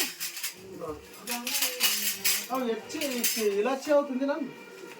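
Metal spoons clink and rattle against dishes at a family function, giving intermittent light metallic jingles mixed beneath people talking nearby.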